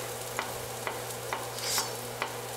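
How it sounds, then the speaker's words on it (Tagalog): Garlic and onion sautéing in oil in a pan, a steady low sizzle with a few sharp scrapes of stirring spaced about half a second apart, no voices. "magigisa tayo ng garlic. Then, sunod natin yung onion."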